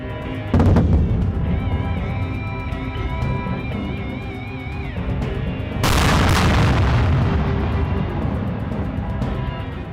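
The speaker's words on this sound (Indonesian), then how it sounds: "menembakkan 5 peluru artileri berat ke sejumlah lokasi di Provinsi Pursat" Heavy artillery shells are fired toward Pursat province on the Cambodia–Thailand border, a loud booming blast followed later by a second powerful roaring impact, over a continuous rumble of wind and distant noise.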